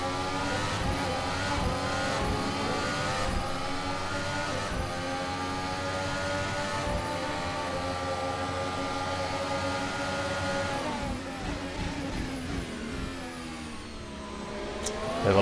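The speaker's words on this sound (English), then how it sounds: "Bit of a lock up there from Magzire." Racing cars in a Nurburgring racing video game roar steadily with layered engine tones, while a tyre locks up and squeals under braking near the end.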